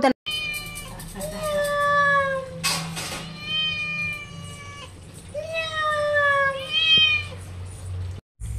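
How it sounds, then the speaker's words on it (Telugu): A cat meows repeatedly outside a kitchen window during cooking, clear drawn-out calls in several bursts, with a person speaking softly to it between meows. "అలా వండుతున్నప్పుడు పిల్లి వచ్చిందనమాట మా కిటికీ వెనకాదలకి దాన్ని పలకరిస్తున్నాను నేను"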